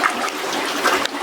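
Natural water trickling inside a hidden cave in Jamaica: a brief, steady splashing rush of running water, close and fairly loud, with no speech.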